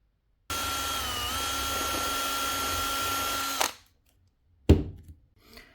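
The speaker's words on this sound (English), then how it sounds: "Now this M6 bolt doesn't fit directly, so we are going to make this hole a bit bigger." A power drill widens a hole to fit an M6 bolt for an RC boat trailer, running steadily for about three seconds, then stopping, followed by a sharp knock and a faint rattle.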